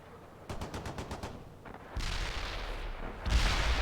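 Battle in the World in Conflict strategy game, Soviet assault on a heavily defended farm: a quick series of evenly spaced rifle shots, then heavier booming artillery and machine-gun fire that grows louder and denser toward the end.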